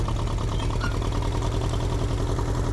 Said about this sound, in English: the engine is most definitely running